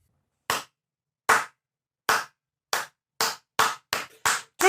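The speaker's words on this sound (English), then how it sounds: "You guys really fucking slow clap?" A slow clap of about eight sharp, isolated hand claps, evenly spaced at first and then coming slightly quicker toward the end, loud and close with silence between each.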